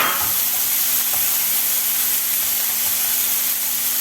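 Seasoned tomato frying in a skillet, a constant bright hissing sizzle held at an even level throughout, close by and without talk.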